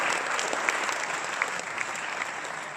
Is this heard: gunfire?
no